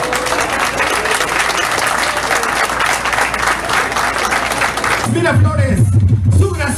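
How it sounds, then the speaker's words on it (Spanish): A festival crowd in Los Cabos applauds loudly during a festival queen's coronation, a thick, sustained ovation lasting about five seconds before it drops away and an amplified voice speaks over lingering crowd noise. "Fuerte el aplauso de todo el público"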